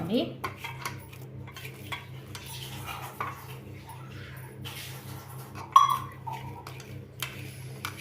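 Saffron-coloured semolina sweet mixture being stirred in a pan: soft repeated scraping and light metallic clinks of a spoon against the pan, with a faint steady hum beneath.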